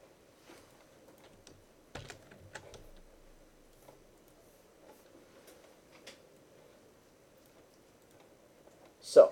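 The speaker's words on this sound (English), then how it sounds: "everybody type along as I am typing up here" Someone types on a computer keyboard, with sparse, faint, irregular key clicks over a low steady hum and one louder clatter at the end.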